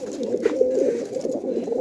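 Pigeons coo steadily and close by, a run of soft, low, throaty calls repeating one after another with no talk over them.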